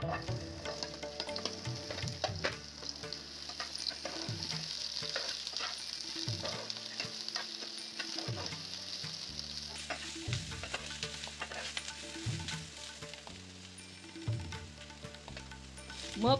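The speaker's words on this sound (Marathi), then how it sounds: "आता त्याच पॅनमध्ये थोडेसे तेल घालून मग त्यात कापलेले कांदे सोनेरी होईपर्यंत परतून घ्या." Sliced onions fry in oil in a pan with a steady close sizzle. Repeated stirring scrapes and clacks of a spoon against the pan run throughout, with no talking.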